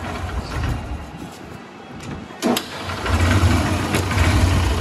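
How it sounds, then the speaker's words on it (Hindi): A Honda Dream Yuga motorcycle engine after a timing chain replacement cranks and fires, then settles into a steady low idle with a brief blip of revs, close by and without talk. "अभी हम इस गाड़ी को स्टार्ट करके आपको इंजन का इसका साउंड सुना देंगे, इस गाड़ी का साउंड कैसा निकल रहा है।"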